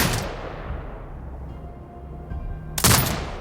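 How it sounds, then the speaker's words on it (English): Turret fire in Sniper Ghost Warrior Contracts 2: a loud burst opens the clip, rumbling reverb trails off, then a second sharp, powerful shot hits near the end. "Exit binocular mode and command the turret to fire."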